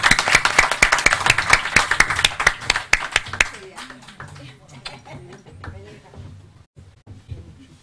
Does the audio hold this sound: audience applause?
yes